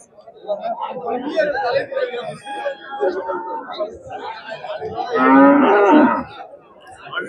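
Cattle mooing amid a busy outdoor crowd at a livestock market in Karunkalpalayam, with several voices chattering throughout and a loud, drawn-out low call rising near the end.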